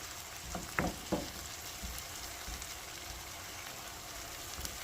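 Food cooks down in a pan at home with a soft, continuous sizzle and frying crackle. A few brief clicks of stirring rise above it, and the sound stays faint and close, with no talk.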